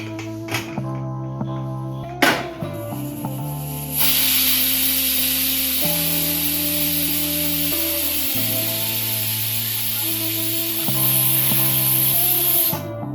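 Pressure cooker on the stove while cooking chicken mandi with rice, releasing a steady, loud hiss of escaping steam that runs for most of the stretch over a low hum, preceded by a few sharp clicks.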